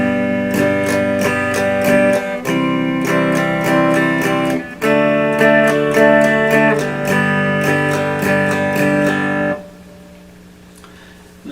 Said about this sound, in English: Now this first strumming pattern is very, very common.